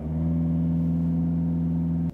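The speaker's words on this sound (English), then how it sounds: "Too much acceleration is going to sound a lot like this" Car engine held at high revs from too much acceleration while moving off, a steady, loud, droning hum with a strong, even tone that holds without change until it cuts off abruptly.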